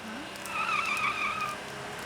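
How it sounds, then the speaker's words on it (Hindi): A car from the comedy film Tarzan The Wonder Car screeches its tires as it skids to a stop. The squeal is loud and lasts about a second over a low engine rumble. "अरे गाड़ी आ रही है।"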